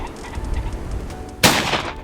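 A single sharp, loud shotgun blast during an outdoor pheasant hunt, following a stretch of quiet field ambience and faint movement, with the report ringing out briefly.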